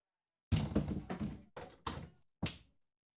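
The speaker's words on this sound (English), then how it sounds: "I need to shut the door." A door is shut with a series of close, muffled thunks and knocks, several uneven bumps ending in a final firmer knock, then quiet.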